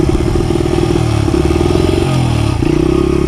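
Dirt bike engine running steadily and loud, close up, with its pitch rising and dropping as the rider shifts through the gears, plus some mechanical clatter.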